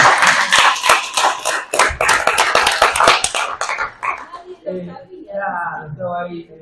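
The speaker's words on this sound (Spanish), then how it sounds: "aplauso." A small gathering at a workshop talk breaks into applause, loud close claps for a few seconds that fade out as people start talking.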